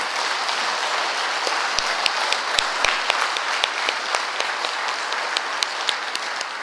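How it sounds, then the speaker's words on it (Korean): A congregation at a Sunday Buddhist dharma service claps together, an even, moderately distant patter of many hands holding steady for several seconds, with a few sharper close claps near the start and no speech. "이건 지금 박수 한번 치세요 이럴 때"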